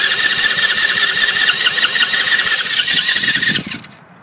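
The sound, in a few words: four-wheeler engine cranking with choke pulled up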